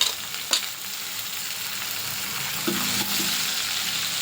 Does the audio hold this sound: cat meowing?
no